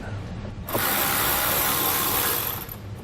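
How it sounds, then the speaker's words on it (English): Removing a T30 screw from a white keeper on a 2017 Ford Focus; a loud, steady ratcheting or power-driver whir runs for about two seconds, close up, with no talking. "there's also going to be a T30 screw that's ran into this white keeper here. So we'll want to get that from the back side and remove it."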